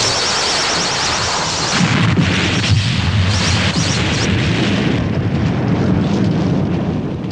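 Building destroyed in a Godzilla movie: a continuous, loud, dense roar of crashing and rumbling debris with no break and no voices.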